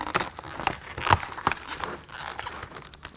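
Plastic packaging for a window deflector kit for a 1993–2011 Ford Ranger is cut open, producing close crinkling and crackling with a few sharp snips and tears, and no talking.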